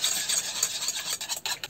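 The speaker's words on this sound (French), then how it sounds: "Je remélange le tout." A spoon stirs a cream and fish mixture with onions in a bowl for a seafood terrine, producing a brief, close, continuous wet scraping and swishing with a few soft clinks.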